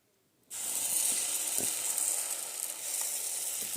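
Batter hits a hot mini waffle maker and begins sizzling abruptly, a bright, steady frying hiss that continues at even loudness with a few soft clicks underneath and no voices.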